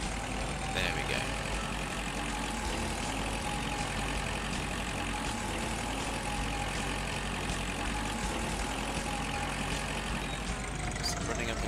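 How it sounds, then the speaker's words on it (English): A tractor engine from Agricultural Simulator Historical drones steadily at idle to cruising speed, a constant mid-low rumble throughout with no talk over it. "running up and down it with a tractor"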